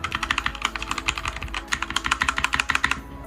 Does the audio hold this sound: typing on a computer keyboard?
yes